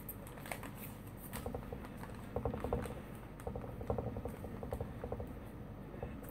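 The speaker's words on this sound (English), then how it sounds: "I'm going to shake down the rice curry." A UK ration vegetable and rice curry pouch is shaken down, giving soft rustling and rattling shakes in short bursts. The sound is close and quiet, with no talking.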